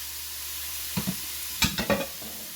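Steady, loud sizzling of beef searing in a hot nonstick pan, with a few sharp clinks and scrapes of a utensil near the end.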